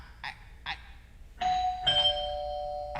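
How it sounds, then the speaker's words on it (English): A doorbell chimes indoors: two soft taps, then a clear two-tone ding-dong ringing out, followed by another chime starting at the end. "I heard the bell"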